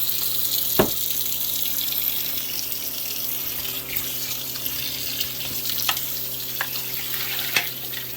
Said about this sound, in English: Rinse them off down the side, and then we can look inside.